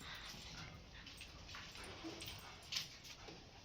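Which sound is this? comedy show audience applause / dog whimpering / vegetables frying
dog whimpering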